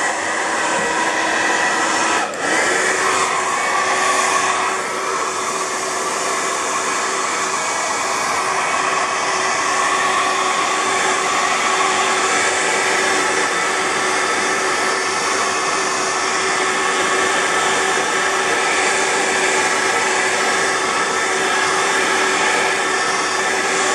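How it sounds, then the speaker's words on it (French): A hair dryer blows on a freshly painted picture of a snowy sky, a loud, constant whooshing hum running unbroken and close for the whole stretch. "Le sécher au sèche-cheveux."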